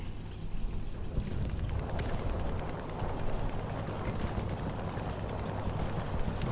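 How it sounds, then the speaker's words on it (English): Continuous loud rumbling roar with a sharper burst near the start, like a bomb explosion and its aftermath in War Thunder, a vehicle combat video game, with no talking. "Ooh, I like when you can see the bomb drop."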